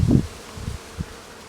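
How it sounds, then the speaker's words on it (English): Honeybees foraging on ivy outdoors, a low buzzing hum that comes in a strong close pass followed by two shorter, fainter swells as insects move past. "There's a honeybee there, look, on the ivy."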